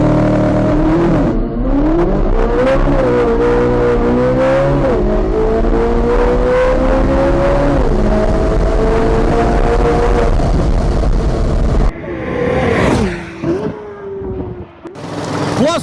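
A go-kart engine driving laps at NCM Motorsports Park, a loud buzzing drone that rises and dips in pitch with throttle changes, close and continuous, briefly cutting out and roaring back near the end.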